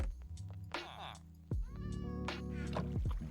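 A cat in Minecraft meows twice in a drawn-out, rising tone over a steady background of game music and ambient hum.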